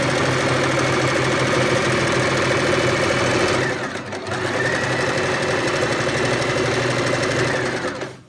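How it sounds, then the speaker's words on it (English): A sewing machine stitches a tote bag seam in a fast, steady mechanical whir, close and loud, briefly pausing near the middle before running on again and stopping at the end. "sew all the way down until I get to the next corner"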